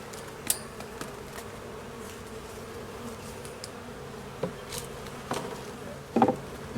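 Honeybees buzzing around a hive on a small farm, a faint continuous drone with occasional bees passing close and a few soft knocks.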